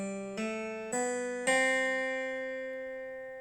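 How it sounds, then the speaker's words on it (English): Diatonic scale with a sharpened fourth played electronically as clean synthesized tones, a few rising notes struck in quick succession, each sustaining and slowly decaying, quiet and alone with no voices. "So this is the code for another diatonic scale"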